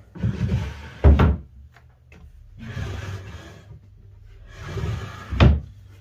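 Wooden shaker style dresser drawers sliding open and shut three times, each pass ending in a sharp knock as the drawer face meets the frame, close and loud in a quiet workshop.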